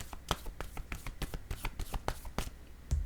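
Playing cards are shuffled and handled up close in a rapid series of crisp riffling snaps and flicks, fairly loud and continuous, with no voice over them.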